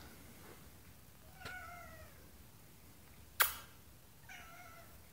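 A cat gives three distinct meows, fairly quiet, spaced over several seconds, with a sharp click between them, indoors in a workshop under a plastic roof.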